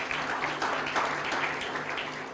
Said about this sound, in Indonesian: Kasih tepuk tangan boleh Tuhan kita.